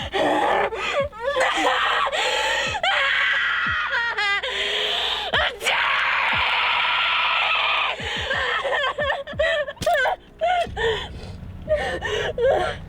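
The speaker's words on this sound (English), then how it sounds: "I feel like almost everything I've been in, I've had to have a blood-curdling scream" An actress on a film set lets out repeated screams, gasps and shrieks in sharp bursts, interspersed with breathy cries and a laugh, loud and close, with faint crew chatter at the end.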